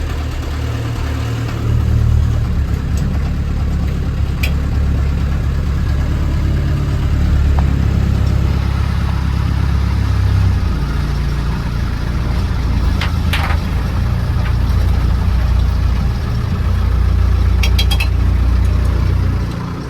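Diesel 1976 Land Rover Series 3 88-inch engine running loud and close after a cold start, a steady low rumbling idle with slight swells of throttle throughout.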